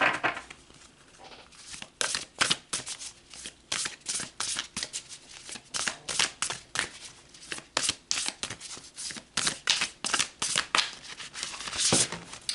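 Oracle cards being shuffled by hand in repeated quick riffling bursts, close and fairly loud, with short pauses between runs and no talking.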